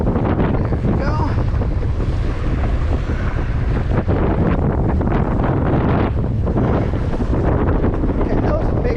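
Steady, loud wind buffeting a small sailboat at sunset, a continuous roar with water and hull noise underneath and no break throughout.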